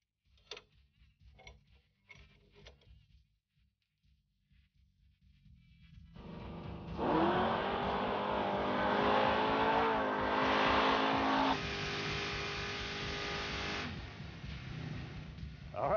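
A 1971 Plymouth Duster with a 500ci big block launches with the tires spinning. Faint ticks give way to a loud sustained roar that rises in pitch, holds steady and then eases slightly, with no one talking.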